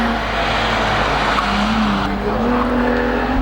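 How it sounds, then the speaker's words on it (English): A Holden Commodore VY race car powers up a mountain hillclimb course, its engine note loud and steady and close throughout, with a brief tyre-scrub edge under the continuous drone. "We're looking at Justin Devlin now, climbing the mountain in his Holden Commodore VY"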